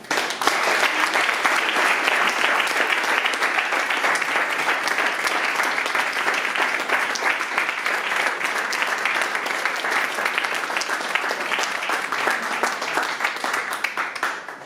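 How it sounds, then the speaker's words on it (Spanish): A large round of audience applause at a poetry tribute event, sustained dense clapping that continues evenly for nearly fifteen seconds without speech. "un aplauso grande para José María Avellán"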